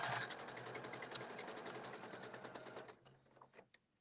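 A sewing machine doing free motion stitching on a fabric panel, rapid steady needle chatter close by that slows and stops near the end, with no voices.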